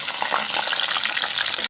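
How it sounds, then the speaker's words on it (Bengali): Battered cauliflower pakoras sizzle and crackle steadily in hot frying oil, a dense, close, continuous hiss that cuts off abruptly at the end. "পকোড়াগুলো পুরো লাল লাল ভাজা হয়ে গেছে,"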